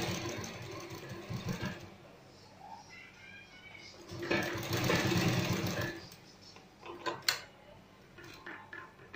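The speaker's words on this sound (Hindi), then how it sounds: "पूरी सिलाई लगा दें हम इस तरीके से।" A sewing machine stitches a sleeve seam in bursts of steady mechanical whirring, pausing and restarting, close and fairly loud, with a few sharp clicks near the end.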